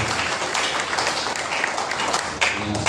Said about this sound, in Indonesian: Ya, tepuk tangan juga.